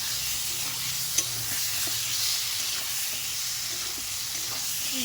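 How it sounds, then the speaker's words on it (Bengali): Potatoes being stir-fried with spice paste in a pan, a continuous close sizzle and hiss with light intermittent scrapes from stirring, and no talk. "মশলা আলু দিয়ে দিয়েছি, তো আলুটা দিয়ে ভালো করে কষাবো।"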